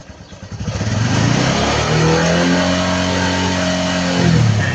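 A Honda Wave 125i LED motorcycle engine revs up close in first gear, climbing from a low putter into a steady, loud, buzzing rev that holds with slight rises and falls before easing back.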